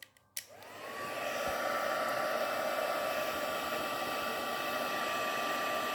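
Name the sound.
heat gun blowing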